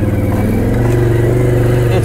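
A Can-Am Renegade 800 ATV crawls along in low-range four-wheel drive, and its engine holds a steady, loud, close drone throughout. A voice is also present in the mix.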